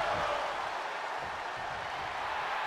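A wrestling arena crowd in the WWE 2K24 video game keeps up a steady, distant roar of cheering throughout, fairly quiet and even in level, with no commentary over it.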